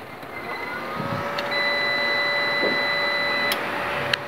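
An inverter UPS switches on with a few short clicks, followed by a steady electronic hum and thin, high whining tones.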